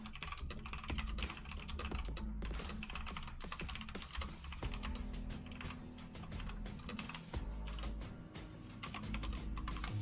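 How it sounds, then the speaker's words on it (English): Someone types on a computer keyboard at close range, producing rapid, uneven bursts of crisp key clicks and clacks that continue throughout without speech. "After you got to listen to me typing."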